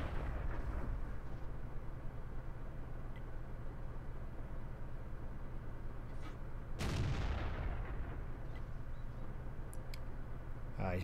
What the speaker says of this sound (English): So now I'm just taking some speculative shots into the bushes